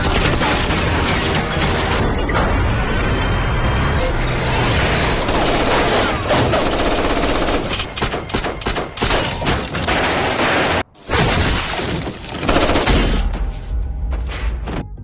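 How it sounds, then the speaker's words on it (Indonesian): Heavy, continuous gunfire and booming blasts fill the clip, loud and chaotic, with bursts overlapping and a brief pause near the end. "Dalam baku tembak tersebut, Chuck harus tewas di tempat setelah terkena tembakan dari musuh."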